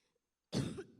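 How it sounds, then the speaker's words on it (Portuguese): One harsh, close cough bursts out after a moment of near silence, followed by a second short cough starting at the very end. "Eu estou tossindo muito."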